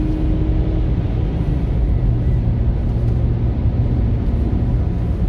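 A 2015 Ford Figo running on CNG accelerates hard, its engine a steady, loud rumble that drones on without a break from inside the car.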